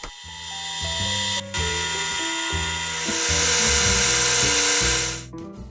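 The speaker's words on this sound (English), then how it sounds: "I had to remove about 2 millimeters of steel off of the staple guide rail in order to get them to fit. This was done using a metal lathe." A metal lathe cuts steel from the staple guide rail of an Acme stapler, giving a loud, steady whine with stepped changes in pitch and a brief break near the start before it winds down.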